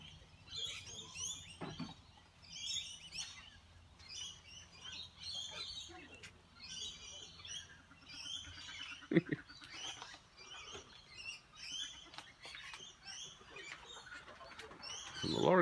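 Lorikeets and other birds at morning feeding time chirp in bursts of high, rapid calls from nearby trees, with scattered clicks and rustles between them and a few louder knocks.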